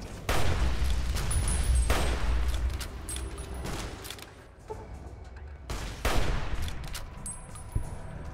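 Hunting rifle gunfire in Fallout New Vegas, a rapid series of loud sharp shots with a burst at the start and more cracks after a short lull, up close.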